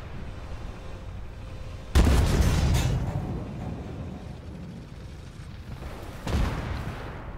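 Tank shell impacts on a Chinese main battle tank in Armored Warfare: two heavy, booming hits about four seconds apart, each with a rumbling, crackling tail over constant engine drone, with no talk.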